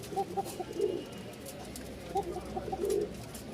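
Pigeons in a pen give several long, thin coos in two bursts, moderately close, with faint background noise between the calls.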